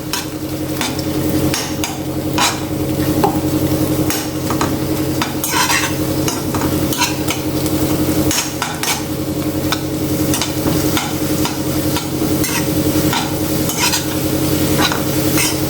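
Spinach sizzles in a hot pan as a spoon scrambles and stirs it, steady frying hiss broken by repeated scraping strokes, close and busy, with no talk.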